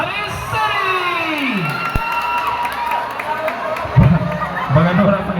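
A crowd at a boxing match cheers and shouts continuously and fairly loudly, with a few louder bursts and an announcer's voice sounding over the noise.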